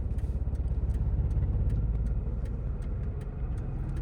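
A car reverses slowly while turning right during a beginner driving lesson, giving a steady low engine rumble at idle with a few faint clicks and no talk.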